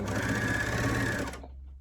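A sewing machine runs steadily as it stitches a knit T-shirt, a continuous whirring hum that stops abruptly near the end, with no talking.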